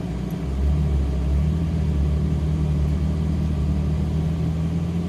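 A Ferrari 458 Italia V8 gives a steady, loud, low rumble as it pulls away, heard from inside the car without talk.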